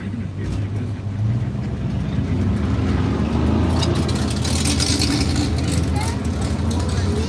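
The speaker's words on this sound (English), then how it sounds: "What is it? 55 or 56 Chevy gasser." A 1955 or 1956 Chevy gasser drives past on a Saturday night cruise through Chehalis, Washington, its engine a low steady rumble that swells slightly over a few seconds amid street noise, heard from inside a vehicle.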